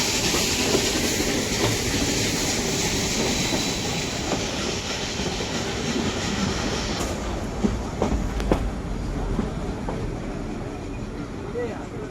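The Ooty toy train rumbles along its rails with a steady clatter, a few metallic squeals and knocks near the end, and faint voices in the background.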